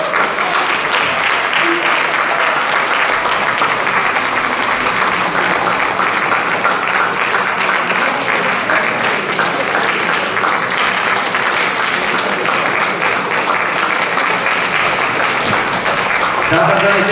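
Sustained audience applause after a contemporary music competition performance, a dense steady wash of clapping lasting the whole stretch with no pauses.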